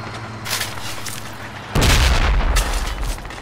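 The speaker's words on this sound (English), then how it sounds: "they have perfectly accurate mortar fire right now on us" Mortar fire in the tactical shooter Project Reality, a heavy rumbling impact bursting in partway through and staying loud and close over steady background noise.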